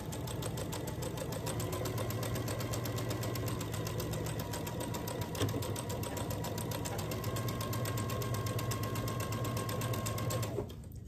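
Sewing machine running steadily while stitching quilt rows with a quarter-inch seam, a close, continuous rapid needle clatter for about ten seconds before stopping abruptly.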